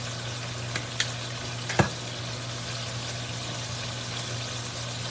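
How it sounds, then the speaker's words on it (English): Ribeye steak with onion frying in a greasy cast iron pan, giving a steady close sizzle with a few brief clicks and one sharp tap partway through, no voices. "I'm putting a little onion on this one."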